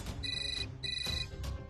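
A telephone rings in a Marathi TV serial scene, two bursts of a bright electronic ringtone separated by a short gap, close and clear over a low background hum.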